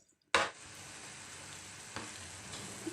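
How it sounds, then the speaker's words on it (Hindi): A chicken and tomato mixture cooking in a covered pan over medium to low heat, a sudden loud hiss at the start settling into a steady close sizzle with a couple of small pops, no speech. "2 से 3 मिनट पकाएंगे मीडियम टू लो आंच में ढक्कन लगाकर"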